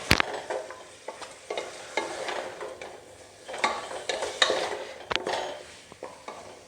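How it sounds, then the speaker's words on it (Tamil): Mutton pieces are sautéed in sesame oil for a Chettinad gravy, a low sizzle broken by repeated scrapes and clacks of a spatula against the pan at an uneven stirring rhythm. "இதை லேசாக கொஞ்சம் நம்ம இந்த எண்ணெயிலேயே எல்லா இடமும் எண்ணெய் படுற மாதிரி கொஞ்சம் லேசாக வதக்கி விட்டுறலாம்."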